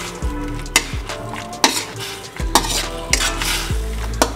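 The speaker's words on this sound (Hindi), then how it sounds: "अब इसमें इडली, अपनी इडली ऐड कर देते हैं और अच्छी तरह से इसको मिक्स करेंगे।" Leftover idli pieces are stirred into thickened Manchurian sauce in a pan, with regular loud spoon scrapes and knocks against the metal about every half second over a faint sizzle.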